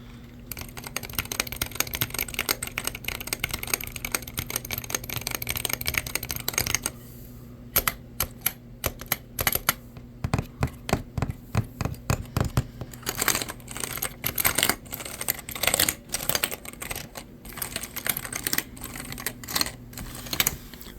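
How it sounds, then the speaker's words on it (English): Clicky keystrokes on a computer keyboard in a lofi gaming room setup, first a fast continuous run of typing, then slower separate taps and short bursts, close and crisp with no talking. "Here is my keyboard."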